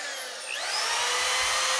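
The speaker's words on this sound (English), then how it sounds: "I've just put 2 screws in with a standard cordless drill" A standard cordless drill driving screws into drywall whines up sharply after a brief pause, its motor pitch rising and then holding steady, close and loud with no talk.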